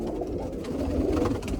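Roller and tippler pigeons at a loft, with soft, low cooing and muffled wing rustles close by, continuous and murmuring throughout the short stretch.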